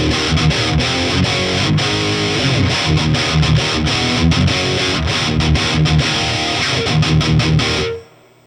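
Electric guitar played through a B-52 ATX100 tube amp with the gain at three-quarters and a touch of reverb, dense distorted chords ringing with rhythmic chugs, then cutting off abruptly as the reverb tail fades.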